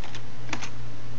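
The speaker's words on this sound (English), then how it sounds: "So let's type in an IP address of" Someone types on a computer keyboard. A few close, light keystrokes click over a steady low hum.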